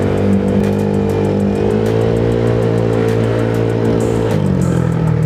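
A remapped Honda Click 175cc scooter with 62mm big valves and a touring set revs loudly and steadily up close, pitch climbing then settling, with no voices.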